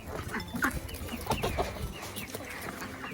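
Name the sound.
chickens clucking on a farm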